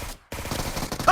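Suppressed QBZ rifle fire in PUBG Mobile, a rapid run of muffled shots broken by a short gap, fairly loud and close with no talking.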